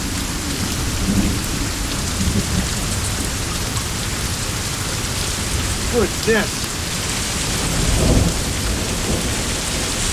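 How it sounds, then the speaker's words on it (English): Steady heavy rain and hail pour down with deep rumbles of thunder rolling through, a storm roaring close by; a voice briefly speaks over it. "Got hail. Got hail."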